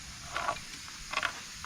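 A plastic valve cover is pried up off a Dodge Grand Caravan engine, making two short creaking, scraping clunks about a second apart against a quiet background.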